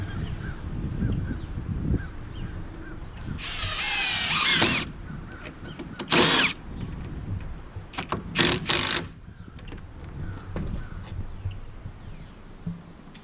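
A power drill drives screws into 2x4 lumber while building a human foosball frame, with several short high whirring bursts separated by pauses, close and loud over a low background hum.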